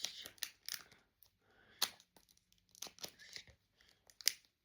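Scissors open a package for an unboxing, with irregular snips, tearing and crinkling of packaging, close and fairly quiet, in short bursts with pauses between them.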